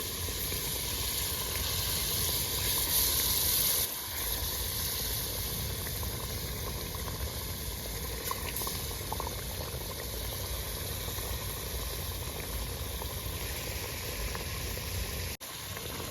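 Gravy with gunda (glue berries) bubbling in a pot, a steady low simmer and soft sizzle running evenly throughout with no voices.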